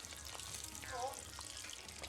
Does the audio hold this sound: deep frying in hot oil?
yes